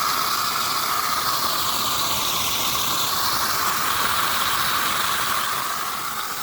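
Water under pressure hisses from the pipe of a 3000 W solar BLDC pump, a steady, loud, close broadband rush that holds evenly throughout, with no voices.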